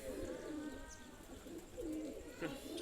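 A yellow-eyed pigeon coos nearby in low, rolling phrases, repeated a few times against a quiet background.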